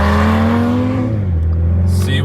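A Porsche 911 GT3 Touring revs hard with its exhaust valves, the loud engine note climbing and then dropping as the revs fall, heard up close with a hint of a voice nearby.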